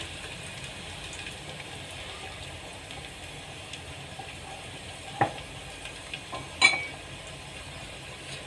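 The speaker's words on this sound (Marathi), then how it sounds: "छान कांदा आपला परतू द्यायचा आहे यात आपण टाकणार आहोत बारीक कुटलेला लसण" Chopped onion and crushed garlic sauté in a pan, giving a faint, steady sizzle with a few brief clicks of stirring near the end.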